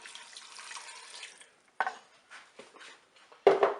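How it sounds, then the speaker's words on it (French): Beef stock made from water and a crumbled bouillon cube is poured into a Cookeo, a quiet liquid splash that comes in short bursts with brief pauses and a few faint clinks. "Je vais rajouter donc mon bouillon composé de 200 ml d'eau et d'un cube de bouillon de bœuf émietté."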